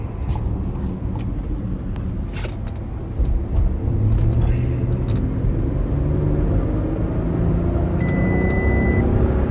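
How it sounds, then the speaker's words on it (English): Inside a car moving through Houston traffic, a steady low engine and road rumble continues throughout, with a faint electronic beep near the end. "I'm in Houston traffic, so I gotta do what it do. Gotta try to get over."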